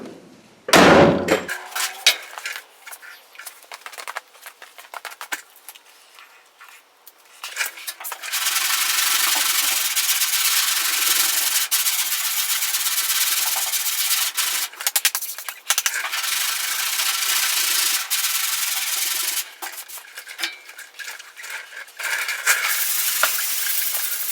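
Sanding body filler on a truck's door and rocker panels: a sharp knock opens, then a loud, continuous abrasive rasping of sandpaper on filler runs close by, with brief pauses and shifts in stroke.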